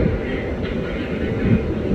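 A KRL commuter train rolls into Duri station on track 5. Its low, heavy rumble is loud and continuous, and a station announcement can be heard faintly underneath.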